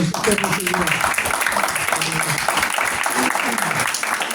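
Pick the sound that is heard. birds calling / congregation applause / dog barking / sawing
congregation applause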